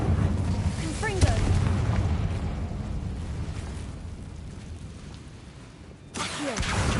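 Confringo fire-blast spell in the Hogwarts Legacy video game, heard as a loud, near boom followed by a fading rumble, then a second blast near the end over the game's ambient noise.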